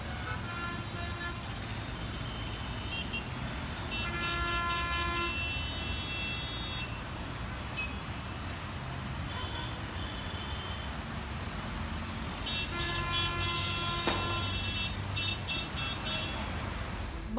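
City traffic in Jaipur, Rajasthan, a steady distant rumble of engines punctuated by repeated vehicle horn honks, some short toots and some longer blasts, with no talking.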